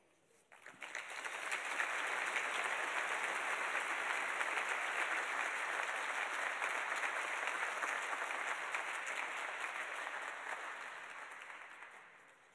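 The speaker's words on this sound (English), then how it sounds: "How about another round of applause?" Sustained audience applause at a community breakfast event, swelling quickly to a dense steady clapping that holds for about ten seconds before tapering off.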